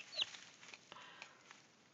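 Soft, quiet clucking from a Brahma chicken, a few short low calls spread over a couple of seconds with faint background hiss.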